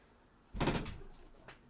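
Cats knock a door with a single rattle, close by and fairly loud, then a fainter second bump a moment later in an otherwise quiet room.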